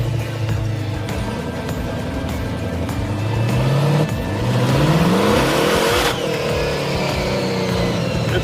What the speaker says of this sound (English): I don't like hitting the rev limiter with the blower.